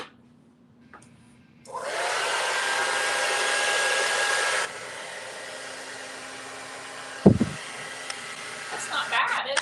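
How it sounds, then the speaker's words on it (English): A hair dryer blows on a DIY painted piece, switching on after a quiet moment into a loud, steady whoosh, then dropping to a lower setting and ending with clatter as a person speaks nearby. "I'm going to do the blow dryer really quick"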